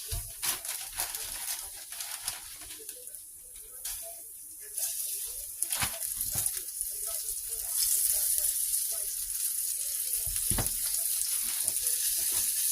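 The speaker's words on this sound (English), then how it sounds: "I want you guys to hear it sizzle." Food hitting a hot, smoking, oiled pan, sizzling softly at first and building into a louder, steadier hiss, with scattered clatters and sharp bursts of crackle along the way.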